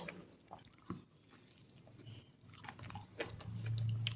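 A chicken roll snack with a masala chicken and egg filling is bitten and chewed up close, making quiet, soft crunches and mouth sounds at irregular moments.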